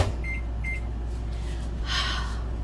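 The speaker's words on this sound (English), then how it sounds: "Pop this in the microwave." A microwave oven hums steadily at close range, heating cocoa butter, with a fan-like whir throughout and a couple of short, faint tones early on.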